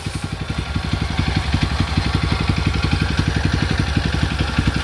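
A Japanese Mitsubishi GM130 engine runs steadily at idle, a loud, close, even chugging beat with no voices over it.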